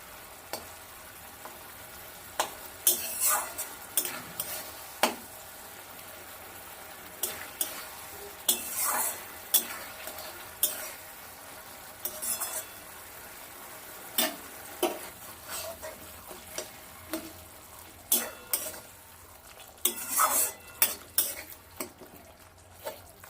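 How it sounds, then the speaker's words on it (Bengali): Spice paste and tomatoes sautéing over a medium flame for a light Bengali fish curry, with a soft, steady sizzle broken by frequent sharp clinks and scrapes of a spoon stirring against the pan. "মশলাটাকে ভালোভাবে কষিয়ে নিতে হবে টমেটোটাকে নরম করে নিতে হবে"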